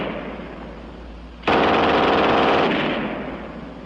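German MG 42 machine gun on a tripod firing one rapid, loud, near burst of about a second and a half, ripping fast then ringing off, after a quiet lead-in.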